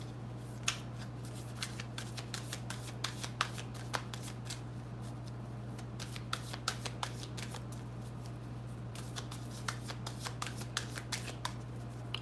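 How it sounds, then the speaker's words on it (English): Tarot cards shuffled by hand in a steady stream of quick papery riffles and flicks, close and fairly quiet, over a constant low electrical hum with no voices. "Even as I shuffle the cards"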